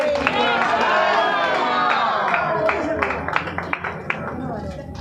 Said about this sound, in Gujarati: એના માટે પણ એકવાર આપણે લોકો તાળી પાડીશું